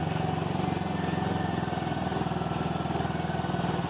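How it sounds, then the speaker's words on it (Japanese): A motorbike pushes through flood water on a Pattaya street, its engine a steady, close mid-pitched drone that holds without break, with a continuous wash of noise around it. "ここからはこの洪水の中バイクを運転している目線でお届けしたいと思います"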